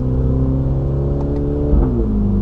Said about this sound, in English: I love the sound coming out of that exhaust.